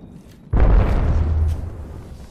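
A frag grenade goes off in Apex Legends with a single loud, close boom and a rumbling tail that fades over about a second.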